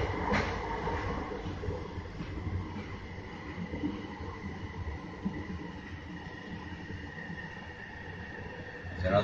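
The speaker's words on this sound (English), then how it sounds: "There's another train there arriving outbound." A SkyTrain pulls into Moody Centre Station with a steady, moderately loud rolling rumble and faint rail clatter that continues throughout.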